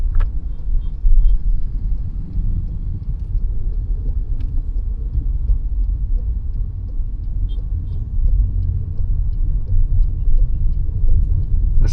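Toyota Innova Hycross hybrid cruising at a relaxed pace in normal mode, heard from inside as a steady low road and engine rumble with faint hiss, fairly loud and continuous with no talking.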